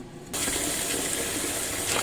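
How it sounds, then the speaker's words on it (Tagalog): String beans washed in water: a tap suddenly opens into a steady, close gush of running water into a basin or sink that continues without talk. "Ayan, hugasan natin ang ating sitaw."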